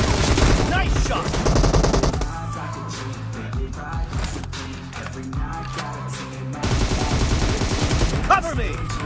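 Automatic gunfire from PUBG, a battle royale video game, rattles in dense loud bursts across the whole stretch, layered over busy game effects and music with a brief quieter lull in the middle.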